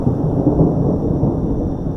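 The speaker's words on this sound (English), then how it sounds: "There's lightning above my head." Thunder rumbling during a sudden lightning storm with a power outage, a loud continuous low roll filling the whole two seconds without pause, with no voices over it.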